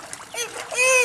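A child splashes into a backyard pool, a short bright splash of water mixed with a voice calling out nearby.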